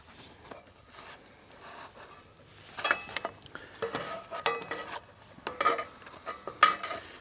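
Jalapeño bacon grilled cheese sizzling softly in a pan at a truck campsite, with irregular scraping and stirring clatters from a spatula growing busier and louder as it cooks; no talking.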